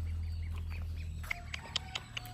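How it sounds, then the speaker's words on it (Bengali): Ducklings feeding in a village yard give soft, faint, repeated peeps and quacks over a low steady hum, with some clicking and pecking noises later, and nobody talks. "এই হাঁসের বাচ্চাগুলো খাচ্ছে।"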